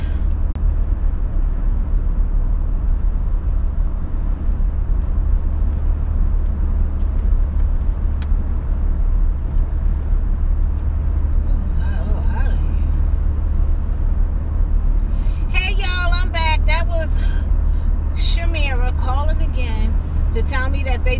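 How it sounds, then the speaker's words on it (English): Steady road traffic rumble heard from inside a moving car, a constant low engine and tyre drone throughout, with a voice talking over it near the end. "Y'all, this is treacherous traffic."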